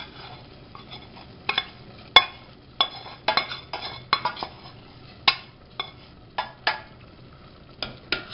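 A utensil scrapes and knocks against a pot of carrots and peas with flour and onion in irregular bursts of clinks and taps, close by, with quiet gaps between strokes.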